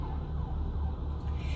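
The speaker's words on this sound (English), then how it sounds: "the fire truck and the ambulances are headed somewhere" Fire truck and ambulance sirens pass steadily by a fire station, a continuous wailing blend over low traffic rumble, fairly loud and without a break.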